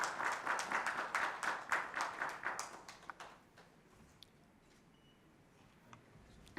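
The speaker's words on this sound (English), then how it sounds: "A big round of applause for Mr." Conference audience at an automotive manufacturing event claps for a speaker, a fairly faint round of applause lasting about three seconds and then fading into quiet room tone with a few stray claps.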